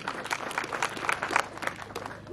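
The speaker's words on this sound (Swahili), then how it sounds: "Simpikie makofi" A brief burst of crowd applause at a Kamba and Kalenjin dowry payment ceremony, an even patter of many hands clapping at moderate distance.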